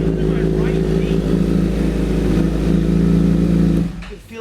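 A 2008 Honda CBR1000RR street-fighter build's engine roars loud and close, a steady deep drone held for about four seconds before it suddenly drops away.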